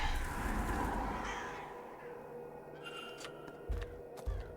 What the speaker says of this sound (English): Oh, there's birds.